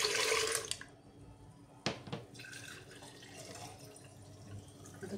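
Warm water is poured for banana juice in a home kitchen, a brief splashing stream at first, then scattered faint drips and clinks in a quiet room.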